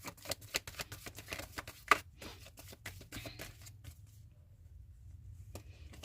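Tarot cards being shuffled by hand: a quick run of crisp riffling clicks over about four seconds, close and fairly quiet, then trailing off into near silence.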